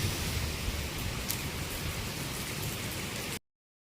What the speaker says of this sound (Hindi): बारिश बहुत तेज़ हो रही है, बहुत तेज़ वाली बारिश है इस समय।